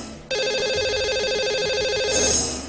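A telephone rings as a radio host dials a lucky caller, one steady electronic ring tone that sounds alone and fairly loud for a couple of seconds after a brief quiet start.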